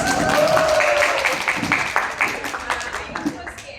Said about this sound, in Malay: Tepuk tangan untuk Ria.